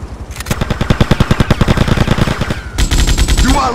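Rapid automatic gunfire in Grand Theft Auto: Vice City, a loud sustained burst of closely spaced shots that breaks off briefly and resumes at a quicker rate.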